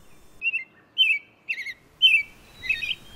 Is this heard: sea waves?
no